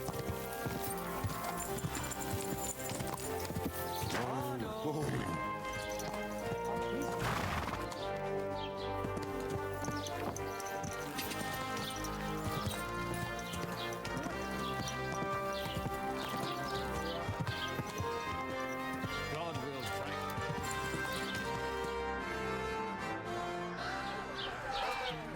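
Horses galloping in the video game Kingdom Come: Deliverance II, a steady rapid clip-clop of hooves with an occasional whinny, layered under continuous music.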